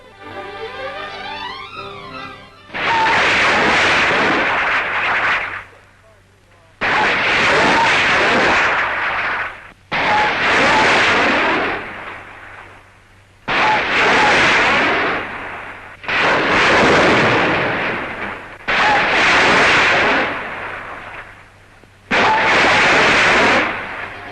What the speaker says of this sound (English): Shooting two 5-inch rockets in salvo, the apparatus can be accurately aimed and reloaded without delay from below.